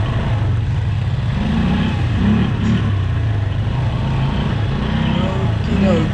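Quad bike engine on an off-road trail, a steady droning motor with slight revving swells that runs continuously close by, with wind noise and a voice talking over it at times.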